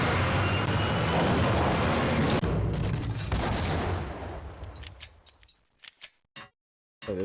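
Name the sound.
rifle gunfire in Max Payne video game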